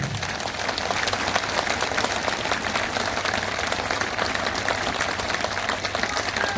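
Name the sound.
audience applauding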